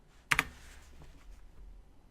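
Quick typing on a computer keyboard: a sharp double click of keys near the start, then a few softer taps against a quiet room background.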